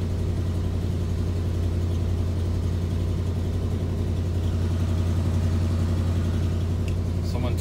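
A 1988 Chevy R30 truck engine idles after a cold start, giving a loud, steady, low rumble throughout, with a person talking faintly over it.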